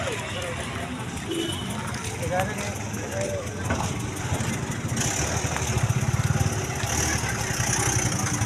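A motorcycle engine idles with a low, steady chugging rumble while voices talk over it nearby.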